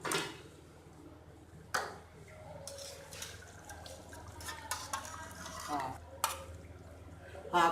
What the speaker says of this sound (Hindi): अब मैं इसमें थोड़ी और दही ऐड करूँगी